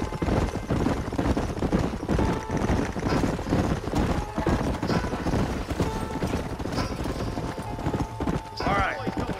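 Horses gallop in Red Dead Redemption on Xbox Series S, with rapid, rhythmic hoofbeats pounding throughout and a brief whinny near the end, while voices talk over the ride.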